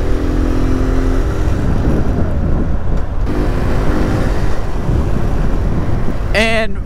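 A Kawasaki Z125 Pro small-displacement motorcycle being ridden, its engine droning steadily under heavy wind rush, with a short rising whine of revs near the end.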